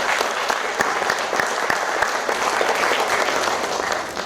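Theatre audience at a mono acting festival breaks into steady, dense applause, many hands clapping together at a moderate distance without pause.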